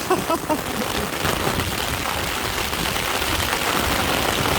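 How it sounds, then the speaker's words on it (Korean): Heavy rain pours steadily during a fishing outing, a dense, even hiss of drops on surfaces close by, with brief voice sounds at the start. "비가 너무 옵니다"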